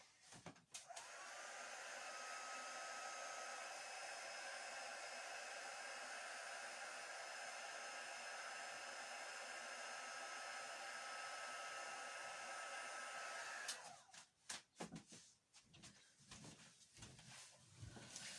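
A heat tool blows hot air over a fold-style paper card project. It makes a steady, close, hair-dryer-like whir for about thirteen seconds, then cuts off, leaving a few handling knocks.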